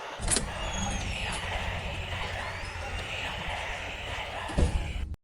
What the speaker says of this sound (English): the low hum of a car engine and tires on a muddy road